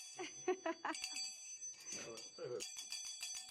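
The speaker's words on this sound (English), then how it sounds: "please ring the bell for Classes in Session for the Class podcast" A bell rung to open a podcast episode, bright ringing strikes mixed in with people talking at close range.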